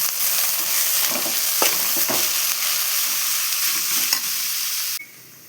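Dried fish frying with browned onions for karuvadu kuzhambu sizzles loudly and steadily while a spoon scrapes through it in a few strokes, then the sound cuts off abruptly.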